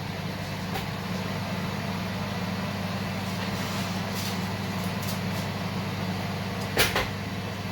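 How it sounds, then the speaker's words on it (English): A convection oven runs in a home kitchen with a steady, low, even hum and whir the whole time, plus a faint brief clunk near the end. "ignore the noise, I've got the convection oven going as well"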